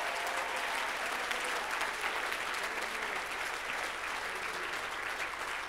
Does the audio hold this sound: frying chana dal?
no